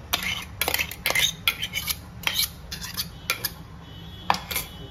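A utensil mashes boiled pumpkin in a bowl with a quick, uneven run of sharp metallic clinks and scrapes against the dish, close by and fairly quiet.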